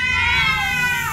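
A cat in the horror video game Ju-On gives one short, close, wavering meow, heard alone.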